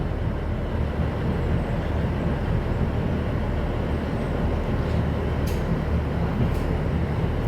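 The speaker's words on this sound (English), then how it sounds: "Here comes my train. It's one of those Azumas." An Azuma train pulls into a railway station with a steady, loud, close rumble and rolling roar that holds without a break for several seconds, with no voices over it.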